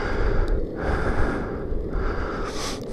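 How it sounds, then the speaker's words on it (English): Heavy, congested breathing from someone riding a longboard for the first time while getting over a cold, with close, loud huffs and snorting breaths in an irregular rhythm alongside rolling wheel noise. "Don't mind the heavy breathing."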